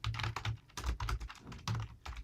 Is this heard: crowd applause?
no